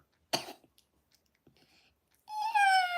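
A short cough-like burst comes first, then a person's voice imitates a cat with a drawn-out, falling meow near the end, separated by quiet gaps.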